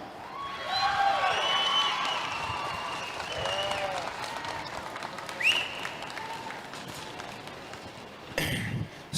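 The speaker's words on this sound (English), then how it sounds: "Let's give a good round of applause out in this division." Spectators at a county 4-H and FFA fair sheep show applaud a division, a sustained patter of clapping in a large open space, with faint voices and a brief clatter near the end.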